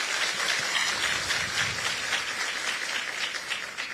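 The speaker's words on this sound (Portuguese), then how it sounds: "Vamos aplaudir Nossa Senhora" A church congregation applauds in sustained, dense clapping that stays fairly even for about four seconds and eases slightly at the end.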